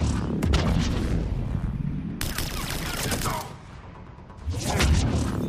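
Grenade blasts and gunfire in the video game Mass Effect 3, dense loud bursts and rumbling booms in two waves with a short quieter gap between.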